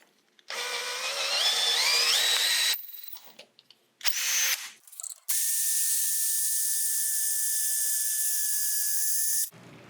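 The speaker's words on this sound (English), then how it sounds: "Now I can drill my second hole." A power drill whines loudly nearby, drilling a hole through a wooden knife handle in several runs, broken by short stops and a few rattling clicks, then a long steady high-pitched burst.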